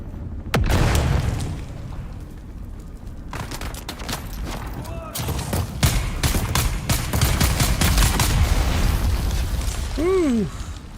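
Grenade explosions in the video game Dune rip through a busy firefight as a dense run of booming blasts and rapid gunfire, loud and sustained, with a voice briefly heard in the mix.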